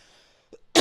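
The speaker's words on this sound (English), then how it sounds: "Just coughing into the mic." A single sharp cough right into a close microphone, loud and abrupt after a near-silent moment, preceded by a brief throat sound.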